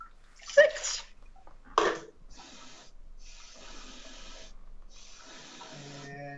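Water being poured into a bowl for a chicken recipe, a steady rushing splash running for several seconds after a couple of sharp bursts, fairly close and alone with no talk.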